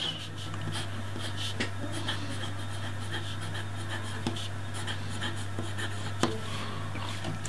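Pen writing cursive flourishes on paper, a soft continuous scratching with quick sweeping strokes and a few light taps, close against a low steady hum, no talking.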